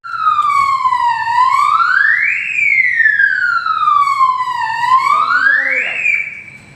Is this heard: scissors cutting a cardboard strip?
no